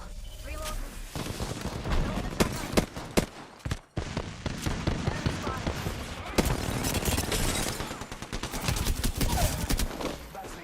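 Gunfire crackles through a video game battle, with dense bursts of rapid shots and heavy blasts repeating loudly throughout, and a voice speaking occasionally among them.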